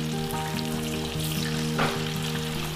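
Chicken pieces fry in oil over a medium flame after being turned to their second side for a crispy chicken fry, giving a steady, continuous sizzle with a faint tonal hum underneath and no talking.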